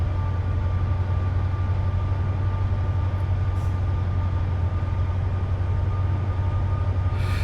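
A Class 70 diesel locomotive gathers speed in Train Simulator on the South Wales Coast, a loud constant low engine drone with a steady rail rumble and faint hiss, no voices.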